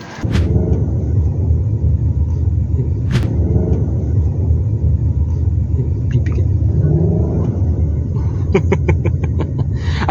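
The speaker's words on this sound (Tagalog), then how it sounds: "Quiet yung V8 when it comes to rumbling." A 2024 Nissan Patrol Royale V8 on a test drive gives a steady, loud, low engine rumble that runs the whole time, with a few brief clicks and a short burst of chirping near the end.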